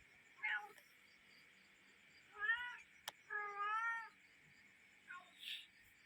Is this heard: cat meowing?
yes